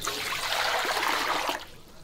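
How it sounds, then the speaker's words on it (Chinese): A steady rush of water pours into a cooking pot for about a second and a half, then cuts off abruptly, leaving a faint residual trickle. "锅中加水，"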